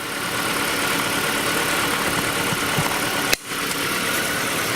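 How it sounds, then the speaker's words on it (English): A 2008 Ford Escape idles with the air conditioning switched on but not working, giving a steady, even engine hum that holds close and constant throughout, broken only by a brief sharp click near the end. "So here is our vehicle purring like a kitten,"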